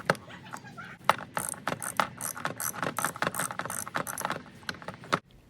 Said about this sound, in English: I'm going to use this 27mm socket on a 10-inch extension and then reach for the oil filter through here.